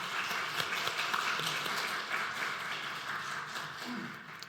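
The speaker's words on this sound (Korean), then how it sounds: "다시 한번 청남전도 회원들에게 축복하는 박수 하도록 하겠습니다" A church congregation at a Wednesday devotional service claps together in blessing, a steady, dense wash of applause sustained throughout at moderate level.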